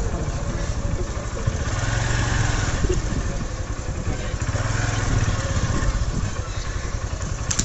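A motorcycle engine runs steadily near a rural village market on a Sunday morning while the bike is being parked, a continuous mid-pitched idle with clattery texture, loud and close throughout.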